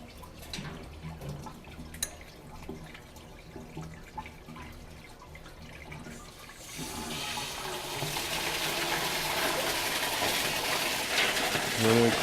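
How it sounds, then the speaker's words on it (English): Water rushes hard through an opened fire sprinkler flow test valve on a deluge valve, a loud, steady broadband hiss that starts midway and keeps going after quieter clanks and handling noises. "We're going to open up our flow test valve so we can purge any air in the inlet chamber of"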